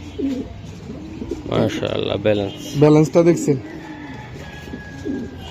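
Racing pigeons at a club loft coo in low, repeated bursts close by, mixed with someone talking over them throughout.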